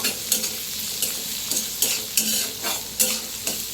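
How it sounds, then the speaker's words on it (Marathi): Green chillies, chopped onion and tomato are sautéed in a pan, a steady sizzle punctuated by brisk spatula scrapes about every half second, close and clear, without voices. "करून घेतलेला हिरव्या मिरच्या, चिरलेला कांदा, टोमॅटो छान परतून घ्यायचं."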